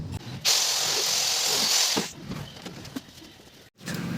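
A small cutting wheel bites into an old radio cabinet salvaged from a scrap-iron shop, giving a loud, steady grinding hiss that runs for about a second and a half before cutting off, leaving quieter shop noise.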